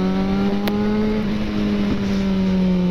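A Yamaha XJ6 motorcycle with a straight-pipe exhaust runs loud and close, holding a steady, throaty engine drone at a fairly constant pitch for a few seconds.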